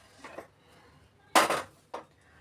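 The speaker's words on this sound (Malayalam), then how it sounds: "അപ്പോൾ ഞാൻ ഈ ചട്ടി ഇങ്ങോട്ടൊന്ന് മാറ്റി വെക്കട്ടെ." Metal cooking pot (chatti) being shifted aside in a kitchen while making Kottayam fish curry: a soft scrape, then a loud clanking clatter and a smaller knock, close by with no talk.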